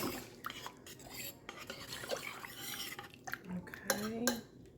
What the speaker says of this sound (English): I'm just going to stir it around.